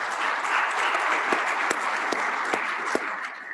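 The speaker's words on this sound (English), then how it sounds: "That's a round of applause for them, please." Audience applause for an honor guard at a commercial vehicle safety summit, a steady, dense wash of clapping held at even loudness for a few seconds with scattered sharper individual claps.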